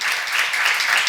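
Congregation at a church seminar breaks into steady, dense applause, a close wash of many hands clapping without pause.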